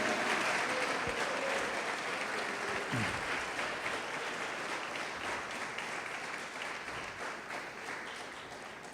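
A church congregation applauds during a Portuguese-language sermon, a dense, steady wash of clapping from many people filling the room, fairly loud and sustained, with a faint voice briefly audible underneath.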